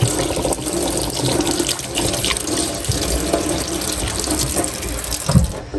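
Plastic cups washed by hand under a running kitchen tap, a steady close splash of water into a sink lasting throughout, with no voices.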